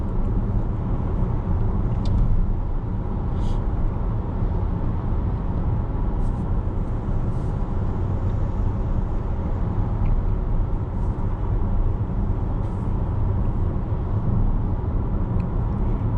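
A Toyota bZ4X electric car accelerates on the road, giving a steady, close rumble of tyre and road noise that holds level throughout, with no voices.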